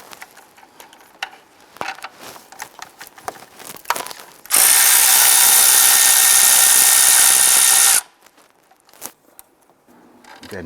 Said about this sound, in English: Remove this nut using a 13mm socket.